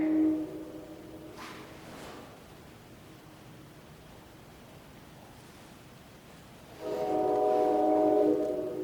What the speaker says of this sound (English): Sounds like the train is gonna come through the building.